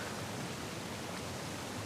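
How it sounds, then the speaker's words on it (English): A waterfall in the video game Uncharted: The Lost Legacy, heard as a steady, dense rushing roar of falling water with no breaks. "Another waterfall."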